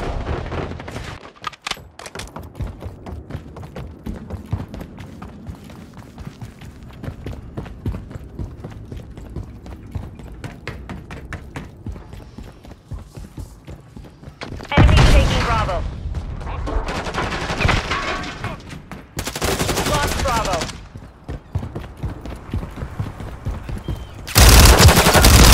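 Call of Duty MW3 gunfire on the Highrise map in Domination, a Fennec 45 submachine gun firing in rapid bursts alongside mechanical clicks and reload clatter, with loud bursts hitting hard near the middle and the very end.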